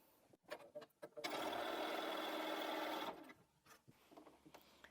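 A sewing machine stitches patchwork fabric strips for a boat-block cushion in one steady two-second run, bracketed by faint handling clicks and fabric rustles before and after.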